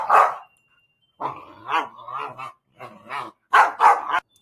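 Puppy barking indoors, a close, loud series of sharp yips and barks in irregular bursts, with one short bark, a run of whiny yaps, and two final loud barks.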